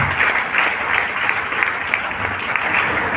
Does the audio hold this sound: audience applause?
yes